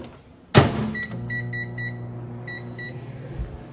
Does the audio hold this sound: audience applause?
no